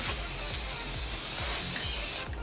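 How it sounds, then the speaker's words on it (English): A spray paint can misting paint onto an old chair, a loud close hiss held steady for two seconds before stopping, with faint low knocks underneath. "keep about 7 to 10 inches away from what you're spraying"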